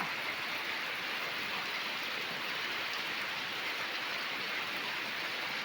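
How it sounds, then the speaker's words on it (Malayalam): Heavy rain pours down at night in a dense, unbroken hiss, steady and loud for the whole stretch, with no voices. "മഴ പെയ്ത് പെയ്ത് ഭയങ്കരമായിട്ട് പെയ്യുന്നത്"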